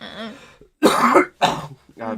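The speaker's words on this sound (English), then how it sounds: "I'm actually coughing because I'm still getting over it" A person coughs and clears their throat several times in close, loud bursts separated by brief pauses, while recovering from an illness.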